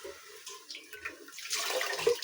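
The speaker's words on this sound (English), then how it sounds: "I'll have to rinse them with clean water." Clean water splashing and trickling as tomatoes and onions are rinsed in a village kitchen, irregular splashes and pouring sounds growing busier toward the end, fairly quiet and close.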